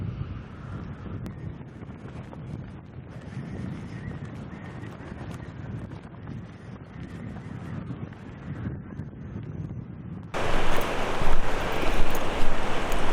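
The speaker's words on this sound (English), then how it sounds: "Wind is just howling" Wind gusting across a mountain trail in Jasper, a low buffeting rumble against the microphone that turns into a loud, bright roar of rushing noise near the end.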